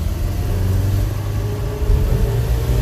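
A little truck with a two-barrel carburetor pulling away from traffic in second gear, its engine giving a steady low rumble that builds slightly as it accelerates, close and continuous with no talk.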